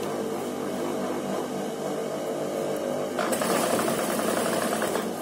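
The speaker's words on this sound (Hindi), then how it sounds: "देखिए एक बूट के फासले से सिलाई लगा रही हूँ" Sewing machine stitching along a pressed crease on a trouser leg, a steady close mechanical whir running throughout and growing louder and busier partway through.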